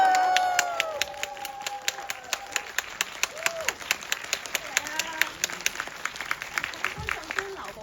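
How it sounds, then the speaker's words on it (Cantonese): Audience at a post-screening session of a film festival breaks into dense applause and scattered cheers, steady rhythmic clapping continuing throughout, fairly close and lively. "觀眾可唔可以熱情啲俾啲歡呼聲？"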